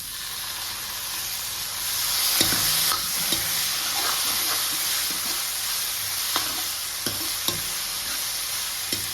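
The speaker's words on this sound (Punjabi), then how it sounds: "ਹੁਣ ਆਪਾਂ ਇਹਨੂੰ ਉਦੋਂ ਤੱਕ ਭੁੰਨਾਂਗੇ ਜਦੋਂ ਤੱਕ ਆਪਣੇ ਟਮਾਟਰ ਜਿਹੜੇ ਚੰਗੀ ਤਰ੍ਹਾਂ ਸੌਫਟ ਨਾ ਹੋ ਜਾਣ" Tomatoes frying with spices in a pan for a spicy pumpkin curry, a steady close sizzle with stirring scrapes and occasional clinks of the spoon, no voices.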